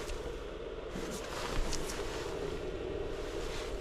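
A diesel air heater of the dry-heater type purges after shutdown, its fan blowing with a steady, close rushing whoosh of air and a low rumble underneath, constant and unbroken with no speech.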